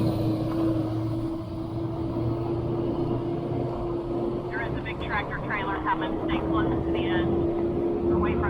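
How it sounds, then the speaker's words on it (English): A big tractor-trailer truck rolls along a downtown road near a rider on an e-bike, its engine a steady droning rumble that builds slightly as it passes, with no talk over it. "There is a big tractor trailer coming."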